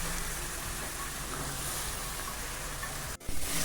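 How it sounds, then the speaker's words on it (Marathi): Gram greens (harbhara bhaji) with a little dal sizzle steadily in a hot pan, a continuous hissing fry, briefly interrupted near the end by a stir and a clink. "याला परतून घेऊया।"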